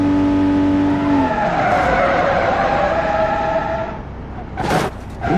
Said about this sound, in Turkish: Drift yaptım. Arabayı kırmadım bile.